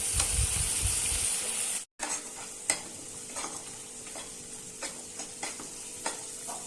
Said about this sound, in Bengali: মশলাটাকে ভালো করে নেড়ে ছেড়ে কষিয়ে নিচ্ছি।